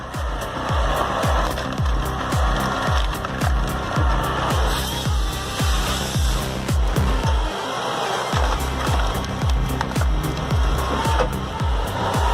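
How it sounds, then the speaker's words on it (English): A Halverson firewood processor cutting and splitting logs, a loud mechanical din of rapid repeated knocks and thuds in a steady rhythm over a constant machine roar, briefly easing midway before resuming. "the Halverson firewood processor's got you covered. This clever machine slices, dices, and splits wood like a pro."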